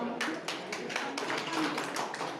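At a railway week award ceremony, a small audience claps in scattered bursts, close and fairly faint, with a separate sharp clap every few tenths of a second rather than a dense roar.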